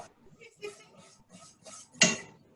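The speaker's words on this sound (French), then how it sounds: "tu fais fondre ton sucre dans la casserole" A saucepan on the stove, where sugar is being melted for a carrot cake, gives soft metallic clatters followed by one sharp, close clank near the end, with quiet voices in the background.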